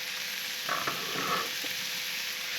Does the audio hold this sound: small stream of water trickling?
no